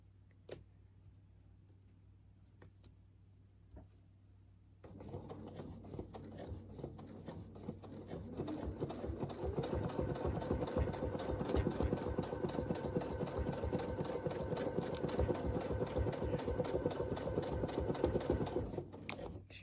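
Sewing machine stitching around a churn dash mini quilt, quiet at first and then a steady fast rhythmic chatter of the needle running close and continuously for most of the clip, no voices.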